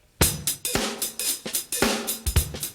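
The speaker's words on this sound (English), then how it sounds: "you can mess with the hi-hat" Hi-hat played on a drum kit: crisp, rapid cymbal strikes in a steady pattern with occasional heavier drum hits, close and clear with no talk.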